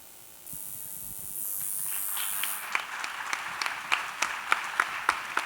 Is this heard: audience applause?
yes